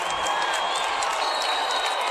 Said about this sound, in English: And you can hear the Goodhue crowd behind me here.